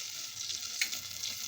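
Water poured into hot oil seasoned with cumin and a pinch of turmeric gives a brief, steady, close hiss of sizzling, with one sharper pop partway through.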